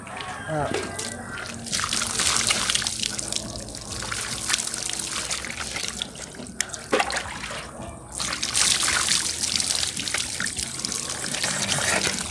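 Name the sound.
water running from a tap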